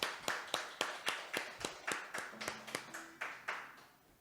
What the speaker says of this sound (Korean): 우리 하나님께 경배와 찬양과 영광의 박수를 드리겠습니다.